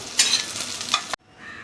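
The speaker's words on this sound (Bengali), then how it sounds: "চিকেন সসেজটা খুব ভালো মতো আমার ভাজা হয়ে গেছে।" Chicken sausages sizzle and crackle in hot oil in a pan, stirred with scraping clatter for about a second before the frying cuts off abruptly, leaving a quieter hiss.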